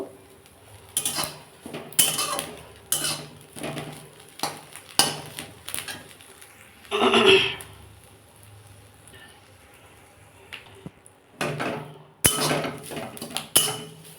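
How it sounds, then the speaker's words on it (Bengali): Neem leaves dry-roasting in a wok with no oil, a metal spatula scraping and clinking against the pan in irregular bursts, with quieter pauses between stirs. "এটাকে আমি এবার মচমচে করে ভাজবো শুকনো খোলার মধ্যে তেল টেল কিছু দিইনি"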